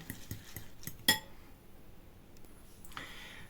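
Oat flakes and egg mixture stirred in a bowl, a few quick light clinks of a utensil against the bowl followed by a sharper single clink, then near silence with a faint scrape at the end.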